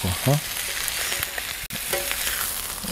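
Beef rib steak searing on a hot plancha and being turned, giving a loud, close, continuous sizzle broken by a few scraping clatters of the tongs and one brief dropout.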